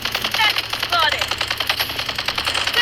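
Rapid automatic gunfire in a video game, sustained bursts of close, loud rattling shots running nearly the whole time with faint game sounds behind.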